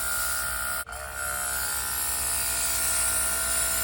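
Air blows through a fuel line on an abandoned classic car, a loud continuous rushing hiss that breaks off briefly near the start and then resumes steadily.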